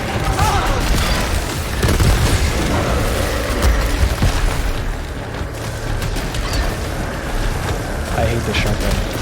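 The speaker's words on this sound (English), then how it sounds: "I hate the shotgun." A shotgun fires in the video game Returnal amid dense, rumbling blasts and bursts of game noise, with a person talking over the action.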